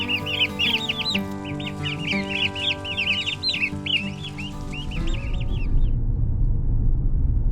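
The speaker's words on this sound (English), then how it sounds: "there's a box of baby turkeys chirping in the passenger seat of the car" Many baby turkey chicks in a box inside a car peep and chirp continuously in high, rapid calls over a low engine hum, the chirping fading out as road noise rises.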